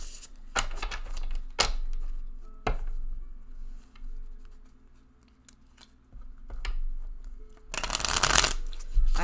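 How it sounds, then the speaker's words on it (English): A deck of cards being shuffled for a psychic reading, close and crisp, with sharp riffling bursts and snaps scattered across quieter handling, ending in a long dense riffle. "while I am shuffling"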